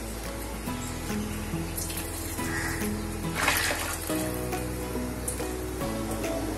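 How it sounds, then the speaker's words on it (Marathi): Water is poured into a pot of tomato saar as it cooks, a steady splashing stream alongside background music, with no talking. "आपण थोडं पाणी घालूया।"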